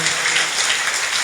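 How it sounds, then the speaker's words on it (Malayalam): A congregation breaks into dense, continuous clapping, a brief steady wash of many hands applauding together in a large hall, with no pauses. "ഒന്ന് കൈയടിച്ച് കർത്താവിന് നന്ദി പറഞ്ഞേ."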